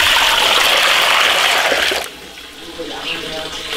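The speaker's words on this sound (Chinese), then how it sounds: "加水，" Water pours steadily into a pot for native-chicken broth, a loud, full rush for about two seconds that cuts off abruptly, leaving a faint trickle and quiet kitchen room tone.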